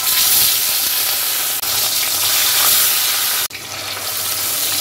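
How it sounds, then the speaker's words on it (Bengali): Fish fries in a hot pan for a fish dish made with raisins, giving a steady, loud, crackling sizzle throughout with no talking. "এদিকে এই যে মাছটা ভাজা হচ্ছে"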